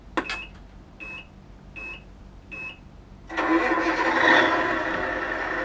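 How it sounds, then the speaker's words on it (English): Electronic startup beeps from a GT Power light and sound kit on an RC truck, four short tones, then a simulated engine cranks and fires into a loud, sustained run. "Pull the trigger."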